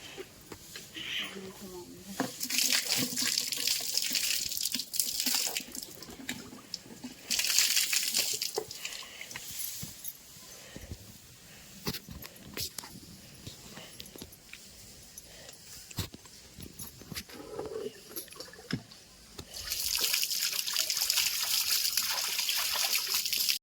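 Cauliflower is rinsed under running tap water, a steady trickle with splashes and surges at the start and end. People talk over the water throughout.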